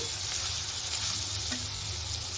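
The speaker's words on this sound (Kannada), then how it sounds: "ಬೆಳ್ಳುಳ್ಳಿ ಹಾಕಿದ್ಮೇಲೆ ಸ್ಟವ್ ಫ್ಲೇಮ್ನ ಲೋ ಮಾಡಿಕೊಂಡು ಚೆನ್ನಾಗಿ ಮಿಕ್ಸ್ ಮಾಡ್ತಾನೆ ಇರಿ" Garlic fries in a pan over a low flame for a chicken fry, a close, steady sizzle running throughout with occasional stirring scrapes and no voices.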